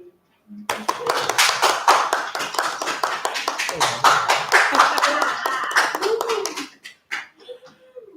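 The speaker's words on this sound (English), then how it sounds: "please give a big round of applause to all our key speakers and our fantastic program director." A small audience claps for key speakers and a program director at a heritage, crime and compliance event, a few hands heard fairly close. Speaking and a laugh come over the clapping before it fades and a voice continues.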